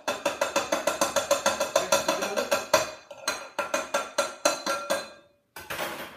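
A utensil stirs wet muffin batter in a bowl, producing a rapid, regular series of clinking strokes against the bowl's side, a pause, then more uneven scraping clinks, fairly close and clear.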